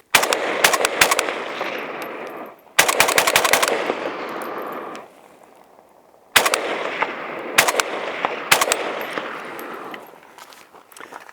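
An AK-47 rifle fires 7.62x39 rounds outdoors in loud, close bursts of rapid shots, several strings separated by short pauses, each crack trailed by a ringing echo.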